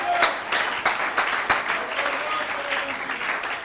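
A church congregation applauds the Lord during a Sunday worship service, with dense, steady clapping from many hands and a few sharper claps standing out, sustained throughout.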